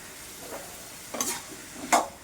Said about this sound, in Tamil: நல்லா கொஞ்ச நேரம் நல்லா வதக்கணும்